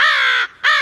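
A caged crow gives a loud, close caw, a short pause, then a second harsh caw, heard alone with no talk.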